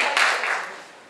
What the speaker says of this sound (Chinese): 掌声谢谢他